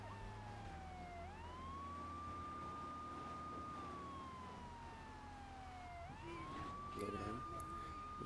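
A police siren in the video game GTA III The Definitive Edition wails in long rising and falling sweeps, loud and continuous, over a low engine rumble, with a brief burst of other game noise near the end.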